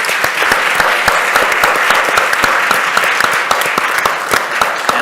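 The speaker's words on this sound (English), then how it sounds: "give our panel a big round of applause" An audience claps steadily for a panel at a morning summit, a dense, even burst of applause from a roomful of people that holds for several seconds.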